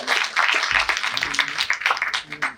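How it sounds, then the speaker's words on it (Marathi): Audience applause at the Sarthi Sanman Sohla award ceremony at MGM University, a dense patter of many hands clapping steadily through the moment, with voices mixed in. "जोरदार टाळ्या वाजवायच्या सरांना"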